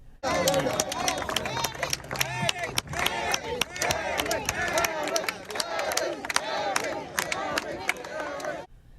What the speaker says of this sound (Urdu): پریس کانفرنس و تقریب ایرک ایڈمز کے حق میں نعروں اور تالیوں سے گونج اٹھی